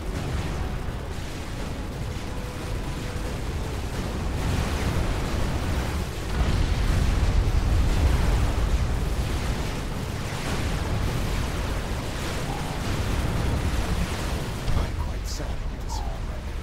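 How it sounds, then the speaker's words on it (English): Booming explosions and rumbling blasts from gunships in the video game Supreme Commander 2 roll on continuously, with a few sharp pops near the end, like battle effects. "Their explosions were quite spectacular."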